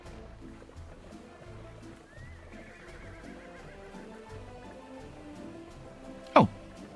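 Horses neigh in the video game Workers & Resources: Soviet Republic, a faint whinny followed by one sharp louder call near the end over a quiet game background.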